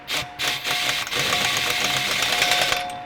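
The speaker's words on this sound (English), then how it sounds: "you can put your impact on the lowest setting and you can run the bolt" An impact wrench on its lowest setting runs a bolt into a tooth insert, giving a steady close whirring buzz with a faint rattle for about three seconds, starting after two short bursts.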